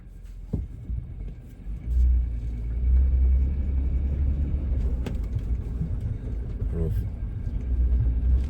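A Ford Transit van fitted with new wheels and mud flaps rounds a corner at a campground, its low engine and road rumble steady and close throughout, with no rubbing noise from the tyres.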